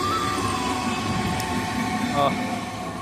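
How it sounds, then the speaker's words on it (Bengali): A Habra local passenger train rolls past with a steady, loud rumble and a thin, drawn-out metallic squeal, while people talk nearby. "হাবড়া লোকাল দেখো গাইজ"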